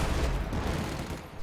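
A StuG tank gun fires in a video game battle, heavy dense booming with rumbling low end lasting the whole short moment.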